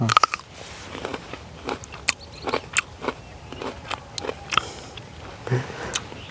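Crisp bites and crunchy chewing of a ripe Chinese jujube fruit, a dozen or so sharp close crunches at an irregular pace over a faint outdoor background.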